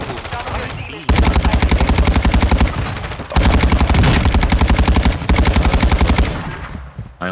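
Rapid automatic weapon fire from a first-person shooter video game, heard as three long, loud, sustained bursts of closely spaced shots, each stopping abruptly before the next.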